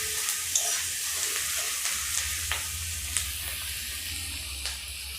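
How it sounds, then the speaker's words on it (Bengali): Onions frying in a pan while being stirred slowly until lightly browned: a steady, close sizzle with faint scrapes and clicks of stirring throughout. No talking. "এরপর আমরা আস্তে আস্তে ওটিকে নাড়তে থাকবো এবং মুড়ি পেঁয়াজটা হালকা ভাজা হতে থাকবে"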